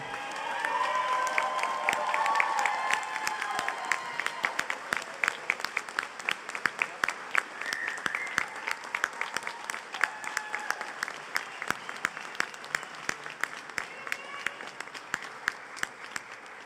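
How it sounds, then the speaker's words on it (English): Graduates at a commencement ceremony turn to applaud their families, a sustained, dense roar of clapping from a large crowd that gradually thins into scattered individual claps toward the end. "I need you to give a round of applause for everybody in front of you"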